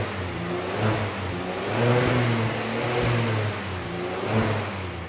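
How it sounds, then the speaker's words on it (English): A 2022 Genesis G70 engine revs up and down through its baffled exhaust, a deep throaty rumble rising and falling, loud and close with no talking. "this does have baffled exhaust"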